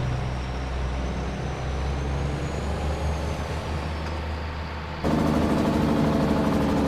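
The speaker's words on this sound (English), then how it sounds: "I love the sound of this truck." A harvest truck's engine rumbles steadily at a low idle with a faint high whine on top. Partway through it abruptly grows louder and rougher, as if heard from closer or inside the cab.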